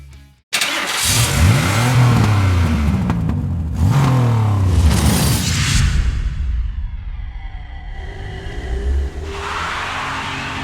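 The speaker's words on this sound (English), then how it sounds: "Introducing the Hosim Moxlin M13 four-wheel drive RC truck." A Hosim Moxlin M13 four-wheel drive RC truck on a 3S LiPo battery, rated at 50 mph, screams past in two loud, rising electric motor whines with rushing whooshes, then its sound fades and a lighter whine returns near the end.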